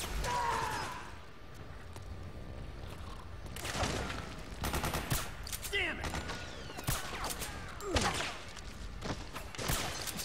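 Gunfire in the video game Metal Gear Solid 4, scattered bursts and mechanical clicks mixed with game effects and voices, fairly faint overall with sharper shots toward the end.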